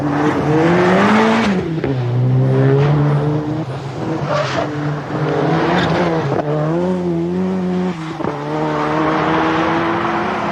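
Rear-wheel-drive rally car on a 1990 British Open Rally Championship stage, driven hard as it scrabbles for grip: a loud, close engine revs and drops through repeated gear changes, with rising and falling pitch across the whole stretch.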